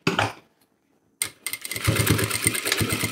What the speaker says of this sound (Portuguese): E vou costurar essa parte aqui pra baixo do zíper